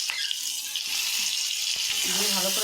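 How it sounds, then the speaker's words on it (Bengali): Onion, capsicum and tomatoes hitting a pan to fry, giving a steady bright sizzle that swells near the end, with a few soft clatters and a voice speaking briefly underneath. "এবার আমি এই পেঁয়াজটা দিয়ে দেবো এই ক্যাপসিকামটাও দিয়ে দেবো এই টমেটোগুলো দিয়ে দেবো"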